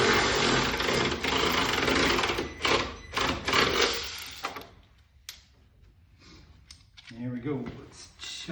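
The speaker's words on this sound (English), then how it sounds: "Husky battery ratchet." A Husky battery-powered ratchet runs in a loud, rapid mechanical buzz for several seconds, then gives a few shorter bursts, with someone talking over the later part.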